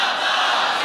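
A large crowd roars a loud, sustained shout in unison, answering a religious slogan at a devotional gathering, dense and continuous with no pause.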